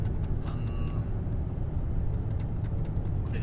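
A Lincoln Aviator cruises on a road under adaptive cruise control, giving a steady low rumble of road and engine noise inside the cabin with faint high clicks, no talk.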